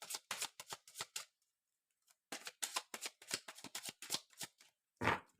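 Green magic tarot cards are shuffled close up in quick bursts of riffling flutters with a short pause in the middle, ending in a soft tap as the deck is squared, quiet and without speech.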